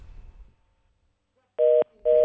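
Two steady dual-tone telephone beeps, each about a quarter second long and separated by a short pause, sound clearly on a phone being used to place a call, following a quiet murmur of room noise.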